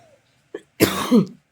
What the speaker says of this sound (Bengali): ক্ষমা করবেন আমার প্রচণ্ড কাশি হয়েছে